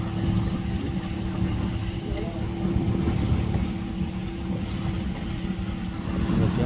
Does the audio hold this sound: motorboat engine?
yes